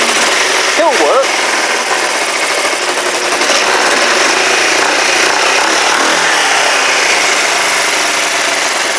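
A Kawasaki GPZ500S motorcycle engine runs loud and close, a continuous rough drone that holds steady throughout with a brief rising whine early on.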